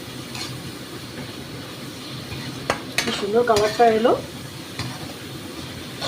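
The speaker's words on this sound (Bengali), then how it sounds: "এবারে ভালো করে মশলাটাকে এর সাথে কষে নেবো।" Spice paste sizzles with prawns and taro stems in a pan, a steady fry broken by scraping stirs that grow busier midway, while a voice speaks briefly over it.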